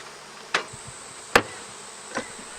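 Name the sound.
honey bees buzzing around hives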